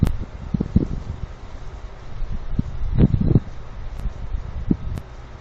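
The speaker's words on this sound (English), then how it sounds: "Unfortunately, the wind's picking up." Wind gusts buffet a microphone outdoors at night as a low rumbling roar, with irregular thumps and rustles rising and falling throughout; no one speaks.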